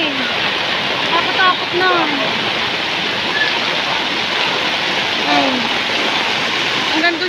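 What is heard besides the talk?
rushing floodwater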